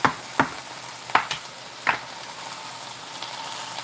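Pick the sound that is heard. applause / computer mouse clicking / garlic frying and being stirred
garlic frying and being stirred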